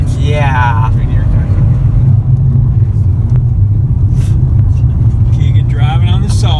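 Rental car engine accelerating across the Bonneville Salt Flats, a steady loud low rumble and road roar throughout, with people talking over it inside the car.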